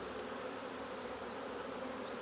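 A steady, dense buzz of honeybees at an open hive during queen rearing carries on unbroken, close and moderately loud, with no voices.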